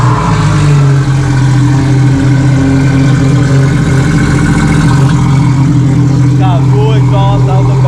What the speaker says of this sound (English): Let's start it up so you guys can hear it.